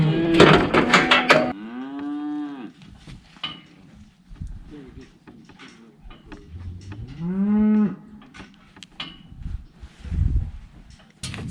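A cow mooing in a cattle chute on a working day, with two long drawn-out moos near and loud, separated by clanks, knocks and shuffling of metal handling gear, and a burst of rattling noise at the start.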